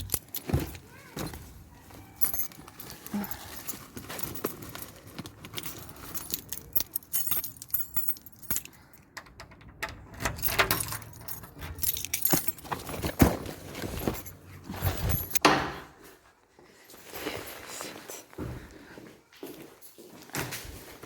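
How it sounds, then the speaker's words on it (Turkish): Keys jangle and scrape in a lock while a restaurant's shop door is being unlocked early in the morning, a busy run of metallic clinks and rattles with door knocks and a brief burst of talk. "Doğru anahtarı takmamışım."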